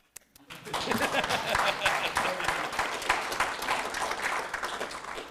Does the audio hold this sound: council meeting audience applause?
yes